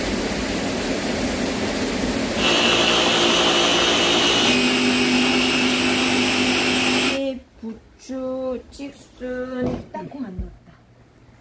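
A loud, steady whirring roar of a blender grinding peanuts runs for about seven seconds, then cuts off, followed by scattered clinks and handling noises.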